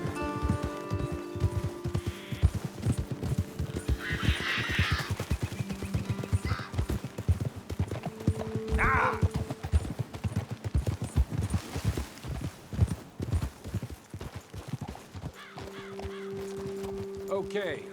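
Horses' hooves clip-clop steadily on the ground in Red Dead Redemption 2, a rhythmic walking gait heard close and under frequent character dialogue, with an occasional snort.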